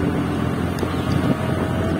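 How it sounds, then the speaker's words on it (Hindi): An outdoor breeze in Gorakhpur, near the North Eastern Railway general manager's office, comes through as a steady low rumble of wind against the microphone, with no talking. "एकदम बेहतरीन हवा चल रही है"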